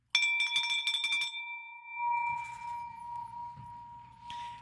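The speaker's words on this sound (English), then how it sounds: "Let's ring that bell." A bell rings with a sharp strike and rapid clanging, then its clear tone hangs and fades slowly under low background noise.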